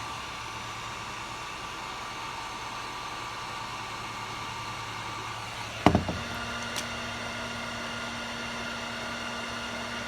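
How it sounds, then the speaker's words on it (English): A heat gun blows a steady, even whooshing roar while heating a plastic milk jug, with a brief clunk partway through after which the motor tone shifts slightly and keeps running. "I'm going to take my heat gun and heat that area back up."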